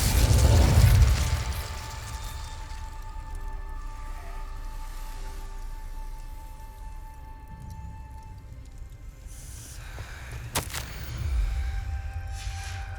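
A fire spell cast in Hogwarts Legacy erupts as a loud, low whooshing burst at the start, then fades into a steady magical hum with a sharp crackle near the end and a second swell.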